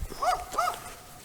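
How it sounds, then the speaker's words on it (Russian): A dog barks twice in quick succession at a moderate distance outdoors near a rural house with vegetable gardens, two short yelping barks with a faint background hum. "Собака на нас гавкает."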